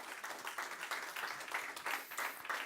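A church congregation claps hands in praise as an offering to God, a faint, rhythmic round of applause from many people at a distance, steady and continuous with no voices over it.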